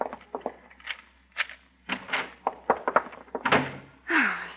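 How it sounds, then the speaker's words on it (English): A door is hurriedly worked open, with a quick series of sharp clicks, knocks and latch rattles, then a longer scraping swing at the end, fairly close and with no talk. "Get the door open fast."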